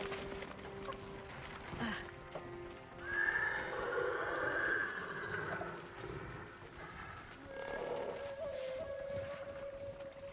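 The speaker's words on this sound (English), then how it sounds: "Follow those horses." Horses in the Ghost of Tsushima video game neigh and whinny loudly, with clip-clop hooves galloping beneath, set against ambient game music.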